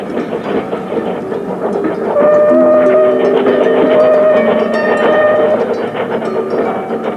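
An excursion train runs along rails, a loud continuous rumble and rattle of carriages with rhythmic clatter and overlapping metallic squeals and tones, steady and close throughout with no talking.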